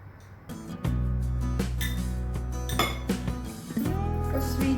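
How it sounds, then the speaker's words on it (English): A spoon scoops coffee into a bowl, giving a few sharp metallic clinks and taps close by over a steady low background hum. "Now 1 spoon of coffee."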